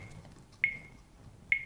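Two short, high electronic beeps nearly a second apart from a swim-coaching device, clear over a low background rumble.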